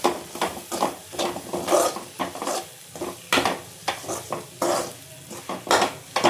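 Tomato and vegetables for an oil-cooked brinjal dish are sautéed in a pan, with a spoon scraping and clinking against the metal in a steady, repeated rhythm over a soft sizzle; no talking.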